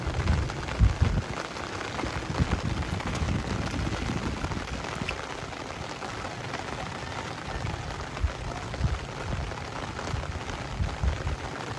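Heavy rain pours down steadily throughout a storm that has lasted several days, with dense hiss and close drips splashing on surfaces at a house in a flooding area, and no voices.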